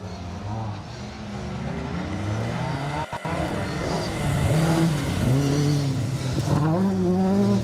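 A Mazda MX-5 rally car on a circuit rally stage revs hard and shifts through gears, with a brief skidding scrub as the wheels lock up under braking before it accelerates away, close and loud.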